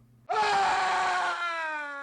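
A long, shrill scream tears through a quiet night scene in a horror story, starting suddenly at full strength, then holding and slowly fading over about two seconds, with no other sound underneath.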